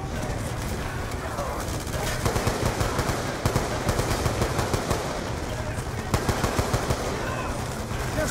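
Sustained machine gun fire in Call of Duty Black Ops II fills the whole stretch as dense, rapid bursts, with sharper rattling volleys layered over a constant roar of battle.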